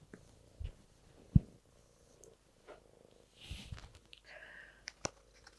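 A house cat purrs close by in a quiet indoor room, the soft rumble coming in faint irregular bursts with a few brief sharper noises between them.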